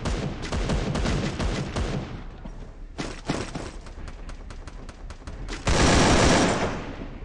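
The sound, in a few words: sniper gunfire in Free Fire video game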